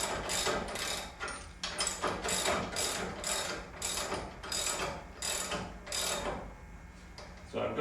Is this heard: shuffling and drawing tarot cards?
no